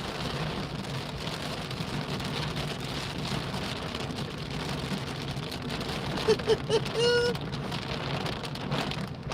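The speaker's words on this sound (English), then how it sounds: "Normally when it's raining like this, when I get home, I sit in the car until it stops raining." Heavy rain drums steadily on a car driving on a very wet day in Wigan, a dense close patter over low road rumble, with a brief rising chirp near the end and no talk.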